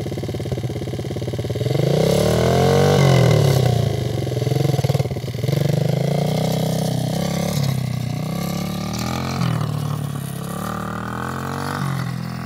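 A 125cc dirt bike engine revs up and down in waves, climbing and falling in pitch as the throttle opens and eases off. It runs steady and close the whole time, with a buzzing motor tone.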